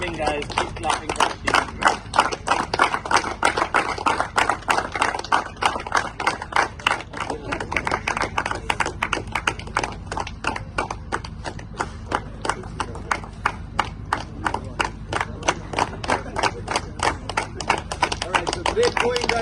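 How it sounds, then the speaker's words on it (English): Audience applause at a prize distribution ceremony: steady, dense clapping from many hands that keeps going without a break, fairly close and lively, with a faint murmur of voices underneath. "Keep clapping, guys. Keep clapping"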